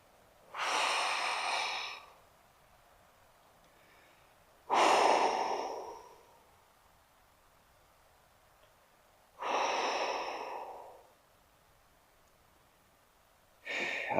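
Slow, deep breaths during a hamstring stretch, heard close and alone: four long exhalations or inhalations, each lasting about a second and a half, separated by quiet gaps of two to three seconds.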